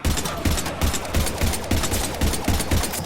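Rapid bursts of automatic gunfire aimed at husks in Mass Effect 3 crackle in a steady rhythm, several volleys per second, loud and close, with no talk.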